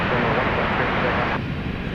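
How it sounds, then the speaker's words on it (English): A FedEx airplane arriving at DFW Airport at night, a steady broad jet roar that holds loud and even throughout, with background tone shifting partway through. "Got a FedEx coming in over on the east side."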